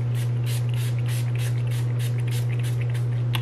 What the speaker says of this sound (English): This is the D-Slick setting spray.